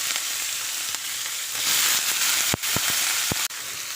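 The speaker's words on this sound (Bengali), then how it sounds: "এখন কিছুটা পেঁয়াজ দিয়ে দেবো।" Onions frying in oil with black peppercorns and black and green cardamom for a meat and potato curry: a loud, steady sizzling hiss that swells midway, broken by a few sharp clicks and pops near the end.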